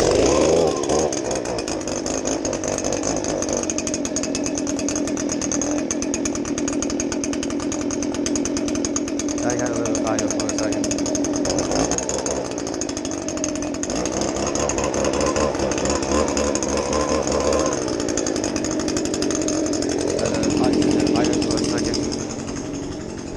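A Stihl BG 56 C-E gas leaf blower drones loud and steady for the whole stretch, a continuous engine roar with slight swells in pitch while clearing a driveway.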